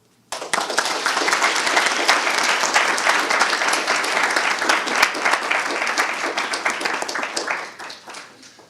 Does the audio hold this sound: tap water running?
no